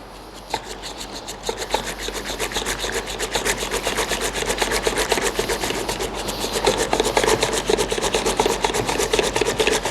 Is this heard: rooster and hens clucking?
no